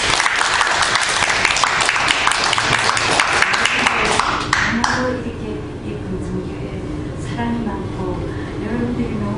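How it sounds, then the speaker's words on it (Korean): A church congregation at a Wednesday prayer meeting bursts into loud, dense applause that fills the room for about five seconds, then fades as a voice continues speaking over the quieter hall. "우리 큰 박수 보내주시기 바랍니다"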